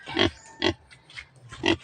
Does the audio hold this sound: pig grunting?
yes